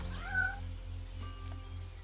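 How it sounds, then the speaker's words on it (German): A fox in the video game Trüberbrook gives a single clear cat-like meow, followed by a fainter, shorter second call over a low steady game hum. "Der Fuchs miaut."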